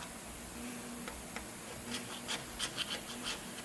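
A hand scraper dragged across a cast iron engine surface makes a series of short, gritty rasping strokes, close and steady, with no talking.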